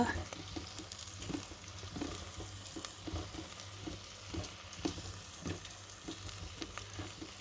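Curry powder sautéing in a pan for boiled egg curry, with a soft steady sizzle and regular scraping stir strokes, quiet and close.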